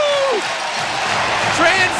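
A college hockey arena crowd roars and cheers after a Badgers goal, a loud sustained wash of noise with whistles rising through it and a play-by-play voice talking over the top.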